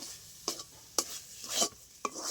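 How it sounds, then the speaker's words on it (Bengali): Sandesh dough being stirred in a pan as the water cooks off, with a handful of distinct scraping strokes spaced about half a second apart over a soft background sizzle, close and fairly quiet with no talking. "এরকম নাড়তে নাড়তে একটা ডো তৈরি হয়ে যাবে আর একদম জলটা শুকিয়ে যাবে"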